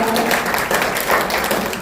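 Applause from an audience at a Korean gathering as guests are introduced, a steady dense patter of clapping lasting a couple of seconds at moderate loudness.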